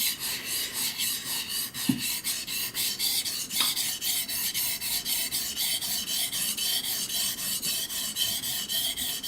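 A Japanese santoku knife drawn over a whetstone in steady, rhythmic rasping strokes, close and even, with a couple of small knocks and no talking.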